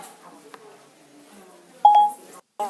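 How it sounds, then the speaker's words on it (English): An iPad timer alarm in a classroom gives a single clear electronic beep lasting about half a second, loud against a quiet room with faint background sound. "There's your alarm."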